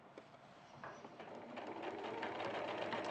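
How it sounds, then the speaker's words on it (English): Facing is stitched around a garment armhole on a sewing machine, a faint, low hum that builds gradually and runs steadily to the end without talk. "now we're just stitching around the facing, around the armhole there"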